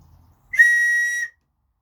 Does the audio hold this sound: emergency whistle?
yes